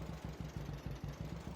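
Tractor engine in Farming Simulator 22, a low steady chugging idle with an even, rapid pulsing rhythm, close and moderately loud.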